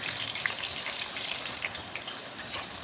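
Peeled, washed garlic cloves frying in hot oil for a mango fish pickle, a steady dense sizzle with fine crackles running throughout, close and even, no voices.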